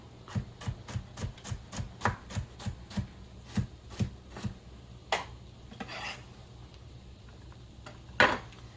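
Carrots chopped with a knife on a cutting board, about a dozen evenly spaced close knocks followed by a few scattered scraping strokes and one sharp final thunk.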